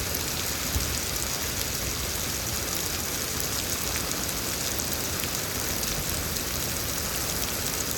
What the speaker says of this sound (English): This is extreme rain.